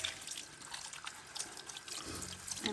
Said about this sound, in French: Donc, je vais faire couler un peu d'eau chaude.